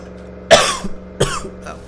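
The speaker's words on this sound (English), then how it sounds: "God, I hate coughing because the headache makes it worse." Two sharp, harsh coughs about a second apart from a State of Decay 2 character, fairly close and loud, with a faint third cough trailing off afterward.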